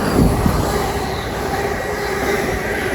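A Class 350 electric train rolls through Watford Junction on the West Coast Main Line, a loud, close, steady rush of wheels and rail noise with faint rhythmic clatter, no voices over it.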